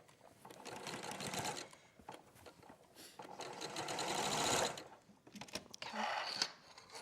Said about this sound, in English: So we're going to sew that in.